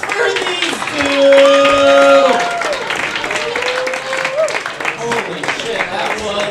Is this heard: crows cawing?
no